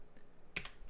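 Computer keyboard in use while a command is entered: a couple of quiet, close key clicks in quick succession against a faint background.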